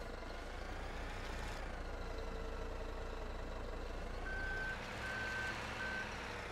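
Truck engine idling steadily in Farming Simulator 17 during log loading after tree cutting, with a rhythmic reversing beep sounding near the end, all alone without talk.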